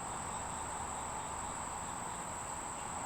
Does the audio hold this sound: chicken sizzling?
no